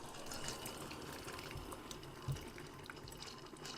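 A Tastyle pod coffee maker brews an 8-ounce cup on its bold setting, giving a soft, steady trickle and hiss of hot liquid with faint gurgles, quiet and close.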